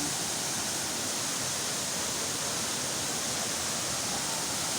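The Pulang Bato waterfall in Valencia, Negros Oriental, roars as a constant, dense rush of falling water, steady and close with no other sounds.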